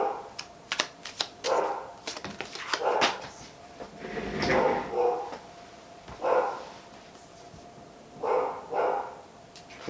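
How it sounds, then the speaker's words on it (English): Indoor dogs bark in short repeated bursts and clusters, moderately close, with gaps between volleys, alongside some clattering household noises. "Please ignore the dogs."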